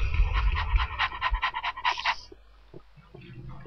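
A dog in the video game Minecraft panting rapidly in a steady run of quick breaths for about two seconds, close and clear, before fading into quieter game ambience with no voice.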